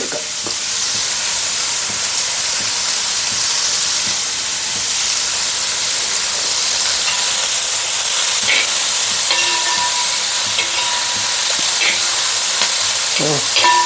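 Curry leaves sizzle in hot oil in a pan for chicken curry, a loud, steady frying hiss that runs throughout, with a few small crackles and stirring scrapes, no voices.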